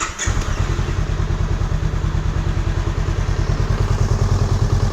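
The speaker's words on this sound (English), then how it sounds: "this is what the Honda Rebel 500 stock exhaust sounds like in a garage" A Honda Rebel 500 motorcycle with stock exhaust idles steadily in a garage, its low rhythmic pulsing thump continuous and fairly loud throughout.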